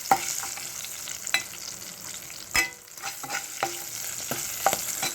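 Aloo tomato curry frying in hot oil: a soft constant sizzle with scattered sharp pops and spatters, one louder burst midway, close and without speech.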